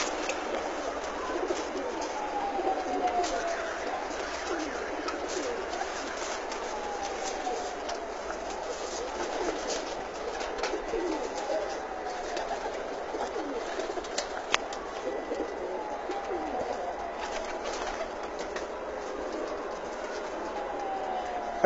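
Pure Kamagar pigeons, old birds of the Shahzada breed, coo softly and continuously at close range over a steady low background hum, with faint sustained calls drifting through the whole stretch.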